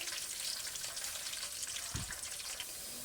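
A large onion frying in a pan of oil with whole spices such as cinnamon pieces, a steady bright sizzle filling the whole stretch, close and fairly loud, with one low thump near the middle and no talking.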